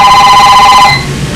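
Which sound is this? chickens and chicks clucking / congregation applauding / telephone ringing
telephone ringing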